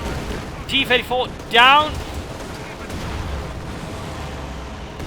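Gunfire and artillery bursts from a Company of Heroes 2 1v1 match, with a loud burst around the middle over a steady rumbling battle bed while a commentator talks briefly.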